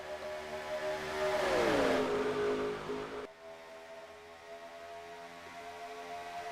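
Stock race cars in the NR2003 racing game roar past in a tight pack at Atlanta, a loud engine whine sweeping down in pitch as they pass, then a steady droning hum continues.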